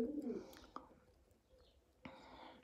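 A rescued street pigeon gives a short, low coo close by, followed by faint soft rustling and a brief quiet call in an otherwise hushed room.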